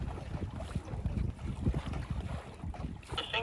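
Steady wind rushes past a sailboat under way on open water, a continuous low buffeting roar with faint splashing and a brief higher whistle near the end, no voices.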